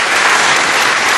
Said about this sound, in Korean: 우리 하나님 앞에 영광의 박수를 올리도록 하겠습니다